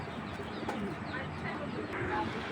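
Tournament racing pigeons coo in low, soft, repeated calls within a loft, mingled with a busy background murmur and faint voices.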